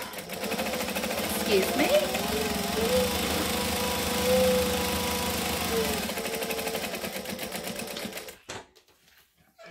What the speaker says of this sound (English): I'm going to chain stitch the next one so that I'm not wasting thread